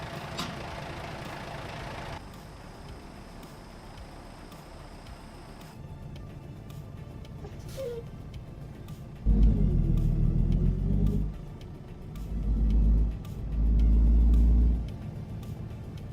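A truck in a driving simulator game, its engine idling as a low steady rumble before revving up in several loud surges while it pulls a trailer through a tight spot, with no talking.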